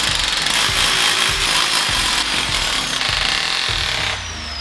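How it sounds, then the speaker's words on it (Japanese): A diamond cutter grinding into concrete for a DIY garage slope, a loud, continuous harsh whine with rhythmic rasping pulses, close by, easing slightly near the end. "コンクリートを削る前はあらかじめ切りたい範囲をダイヤモンドカッターで切っておくといいですね"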